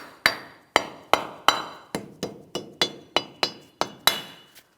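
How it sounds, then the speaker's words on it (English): A rubber mallet taps a protective axle cover into place on a 2007-2014 GMC Sierra 2500 HD, giving about a dozen sharp, evenly paced knocks with a slight metallic ring, close and clear. "We'll tap this in place using a rubber mallet."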